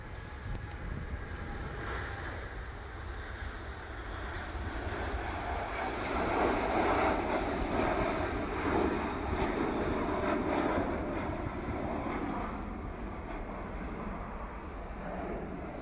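TUI airliner taking off from Manchester Airport for Cancun: a distant jet engine roar swelling to a broad rumbling peak midway and then easing, fairly faint and steady, with no talking.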